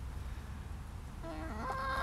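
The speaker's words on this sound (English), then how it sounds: "Here's Stormy, our silky rooster." Silkie rooster and hens clucking outdoors, a steady low murmur of fowl sounds that rises into a clearer, louder rooster call near the end, heard close and alone without talk.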